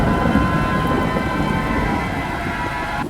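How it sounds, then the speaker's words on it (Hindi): Steady heavy rain hisses throughout, with a low rumble of thunder underneath, a continuous stormy wash with no voices. "अचानक बारिश शुरू हो गई और बादल गरजने लगे।"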